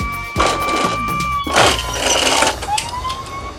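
A toy fire truck's electronic siren wails in steady pitched tones alongside clattering plastic from a pretend-play unboxing of fire trucks and construction vehicles, close and fairly loud.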